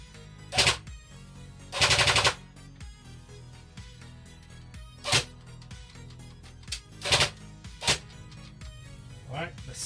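Second-hand airsoft gun firing a handful of separate sharp cracks and short bursts spread across several seconds, close and loud over a quiet mechanical background.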